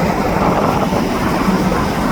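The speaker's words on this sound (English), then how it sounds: "It's the westbound train rolling in." A westbound SkyTrain rolls into the station, heard as a loud, steady broadband rumble and whoosh that stays close and continuous throughout.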